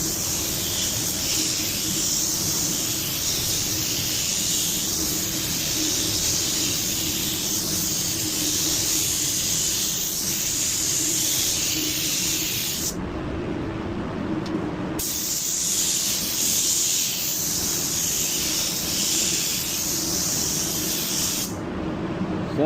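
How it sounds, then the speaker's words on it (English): A spray gun hisses steadily while laying down a wet coat of paint, a loud continuous rush that stops briefly twice before resuming. "I sprayed that pretty wet."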